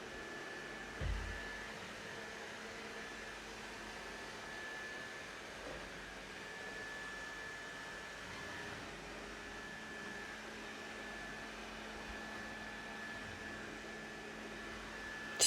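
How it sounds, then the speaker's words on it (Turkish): An electric mixer whisking cake batter with vanilla for a Turkish revani, a steady even whir holding at one level throughout, fairly quiet and alone. "Daha sonra hepsini çırpacağım."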